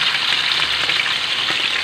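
Belly salmon frying in a pan, with a dense, continuous close-up spatter of hot oil popping and crackling at an even, loud level.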